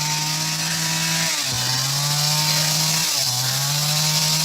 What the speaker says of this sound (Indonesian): Lagi proses menggergaji apa namanya itu?